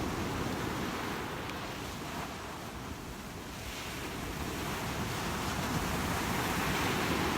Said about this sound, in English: The waves are so loud, isn't it awesome?